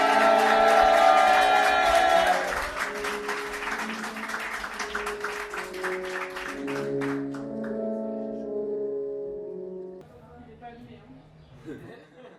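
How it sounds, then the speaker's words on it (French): A comedy club audience applauds and cheers at a stand-up show, a dense burst of clapping over music that fades after a few seconds while the music continues. "Un tonnerre d'applaudissements, un tonnerre de bruit pour Lisa."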